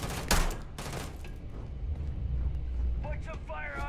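Gunfire in the video game Starfield crackles in a rapid fusillade under heavy low rumble, with a voice speaking near the end.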